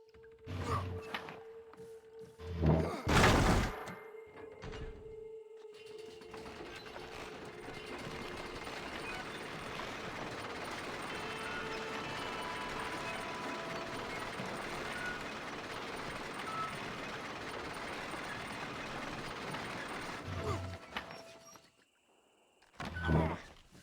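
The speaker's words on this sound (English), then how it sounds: "Load up and I'll engage the gears." A long, steady mechanical rumble and grinding as lift gears engage and the lift runs in Red Dead Redemption, bracketed by a few clanks and thumps at the start and end.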